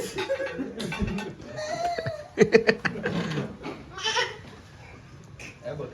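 A goat bleats in short, wavering cries close by, mixed with people talking and laughing around it.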